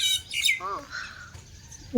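Early-morning bird calls ring out, with sharp squawks and rising chirps close by, followed by softer calls, in a quiet outdoor setting with faint talk in the background.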